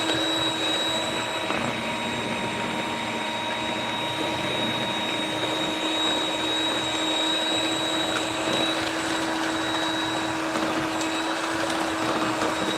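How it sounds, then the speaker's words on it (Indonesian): An electric mixer beats batter for bolu ketan keju, a sticky-rice cheese sponge cake, until it is white and thick, giving a steady, loud whirring drone with a constant high whine throughout and no talking. "ini dikocok sampai putih kental berjejak."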